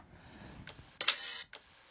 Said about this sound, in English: Quick camera shutter.